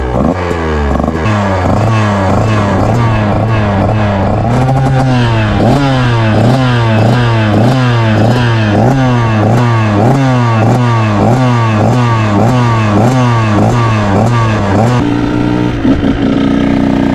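A KTM 125 two-stroke dirt bike engine revs up and down repeatedly, loud and close, with a buzzy, rising and falling pitch and no talking.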